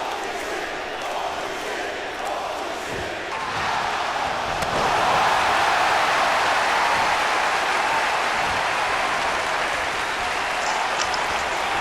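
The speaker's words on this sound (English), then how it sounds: "I did different crowd chants for different sections of the ring" Crowd chants and cheering roar from an AEW wrestling video game's arena, a dense, steady wash of voices that swells louder midway and holds.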